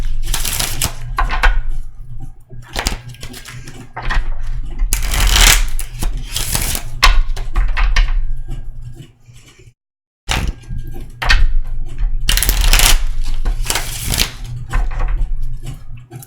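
An Art of Love musical card deck is shuffled close to the microphone in repeated crisp riffling bursts with short gaps between them and a moment of silence near the middle.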